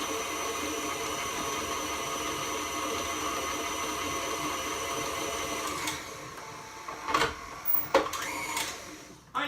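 An electric kitchen mixer whirs steadily through sugar cookie dough with an egg just added, a constant mid-loud drone that stops near the end, followed by a few knocks and clatters.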